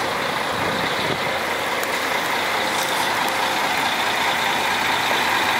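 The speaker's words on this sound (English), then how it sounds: "there's my bus" A Flixbus coach runs at a Bucharest bus station, its engine giving a steady, loud broadband rumble and hiss throughout with no talking.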